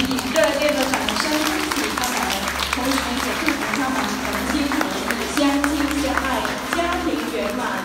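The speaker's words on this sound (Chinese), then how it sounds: "让我们以热烈的掌声。" Warm applause from an audience at a Buddhist Vajra dharma ceremony in a temple in Panama, a steady dense wash of clapping that carries on throughout beneath a voice or music.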